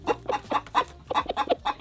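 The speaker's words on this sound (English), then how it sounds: "roosters are supposed to just like scream like that when the sun rises" A rooster at a lodge near a volcanic lake in Rwanda gives a rapid run of loud, close, clucking squawks in short bursts, nearly continuous for two seconds.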